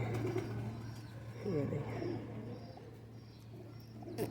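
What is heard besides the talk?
pigeon cooing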